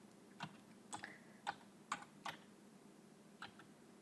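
Quiet, light taps on a computer keyboard as a password is entered: about eight scattered clicks with short pauses between them, close and soft, with no talking.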